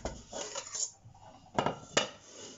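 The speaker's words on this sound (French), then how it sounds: "je vais prendre une autre casserole qui va servir pour les pâtes" Metal saucepan pulled out for cooking pasta in a home kitchen, a few scraping knocks followed by two sharp clanks of pot against pot, close and fairly quiet with no talk.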